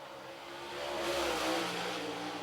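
A super late model race car laps a speedway during qualifying, its engine swelling from a distant drone to a louder passing roar down the back stretch and through turns three and four.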